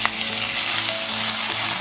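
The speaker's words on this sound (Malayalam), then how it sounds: "ഇതിലേക്ക് ഇനി നമ്മൾ ഈ അരിഞ്ഞു വെച്ചിരിക്കുന്ന സവാള ഇട്ട് കൊടുക്കാം. ജസ്റ്റ് ഇതൊന്ന് വഴറ്റി കൊടുക്കണം." Chopped onions sautéing in hot oil in a pan, a close, steady sizzle with light stirring and scraping, no talk.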